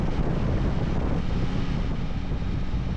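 Strong gusty wind roars across the microphone while riding a Yamaha Tracer 9 GT motorcycle through a wet, blustery gale, a loud continuous low buffeting with no speech.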